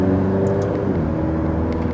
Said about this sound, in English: It's got a good sounding exhaust, especially being for a 4-cylinder of smaller displacement.